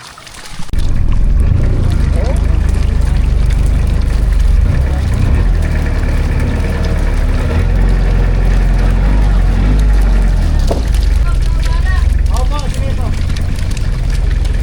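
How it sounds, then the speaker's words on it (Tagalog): A motorboat engine drones steadily throughout, loud and close, with a low rumble and indistinct voices talking over it, on a boat carrying milkfish from a fishpond to a fish market. "doon sa bangka ni parang piso natin sasakay itong mga bangus"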